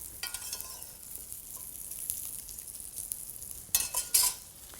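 A spoon scrapes and stirs through risotto in a sizzling pan, a steady low fry with soft scraping strokes and a few sharper clinks and louder hisses near the end, close and with no talk.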